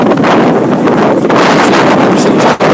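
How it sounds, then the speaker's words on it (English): Heavy wind buffeting the microphone on a riverbank, a constant loud rumbling roar with gusty swells and a brief dip near the end. "I'm picking up, it's mega windy"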